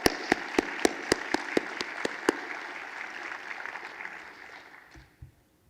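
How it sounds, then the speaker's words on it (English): Audience at a society's annual meeting applauding, a crowd clapping with a few sharp nearby claps standing out at first, then tapering off to silence near the end. "Let's give them a round of applause."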